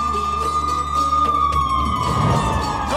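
An ambulance siren wails loudly and steadily for the whole stretch, a long sliding tone that rises and falls, heard close up with a low rumble beneath it.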